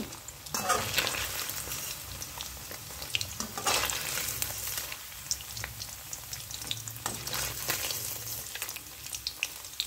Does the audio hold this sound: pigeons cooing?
no